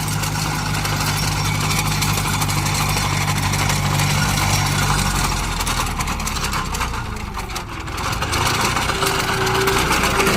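A John Deere 5050 tractor's 50-horsepower three-cylinder engine drones steadily at close range, mixed with a dense, rough whirring and chopping as its PTO-driven mower cuts thick grass, loud throughout.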